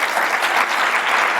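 An audience claps for the conference speakers, a dense and steady burst of many hands filling the room.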